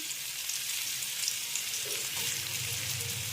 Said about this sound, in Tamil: இது பொரிஞ்சு வர டைமில் கட் பண்ணி வச்சுருக்கேன் வெங்காயத்தை ஆட் பண்ணிக்கலாம்.